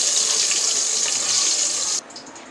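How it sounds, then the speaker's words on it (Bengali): Eggs coated in turmeric and salt fry in hot oil for an egg biryani, giving a loud, dense, steady sizzling hiss that cuts off abruptly near the end. "ডিমগুলো আমি এখন বাদামি কালার করে ভেজে নেব"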